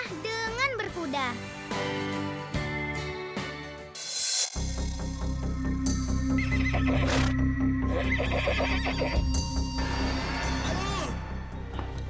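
A horse whinnies loudly nearby and its hooves clip-clop against a busy backdrop of music and other sounds, with a child and other people talking over it.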